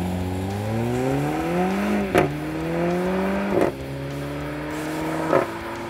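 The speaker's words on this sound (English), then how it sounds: "the all-wheel drive system included as standard here in the interests of prolonged tire existence does its very best to get you off the line in a hurry" A 2014 Mercedes-Benz CLA 45 AMG with all-wheel drive launches hard off the line, its engine climbing steadily through three quick gear changes that each leave a short break and thump before the pitch rises again, loud and close with no voices.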